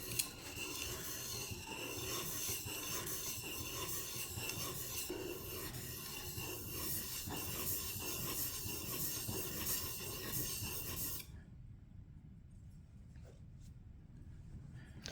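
A hand plane blade's secondary bevel is honed on a sharpening stone with steady, close, rasping back-and-forth strokes that run continuously, then stop abruptly near the end, leaving a quiet room.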